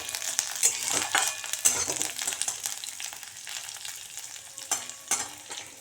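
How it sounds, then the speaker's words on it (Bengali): Carrots and cauliflower sizzle in a hot kadai, the bright frying crackle broken by repeated scraping stirs from a spatula, close up and without any talking. "আমরা গাজরগুলো এখানে দিয়ে দিচ্ছি কড়াইয়ে।"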